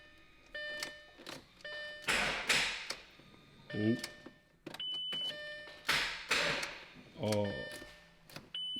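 A Lamborghini being cranked on a flat battery, giving two rough, strained starting attempts with clicking and whirring that fail to catch, close by, with brief exclamations from a person between attempts.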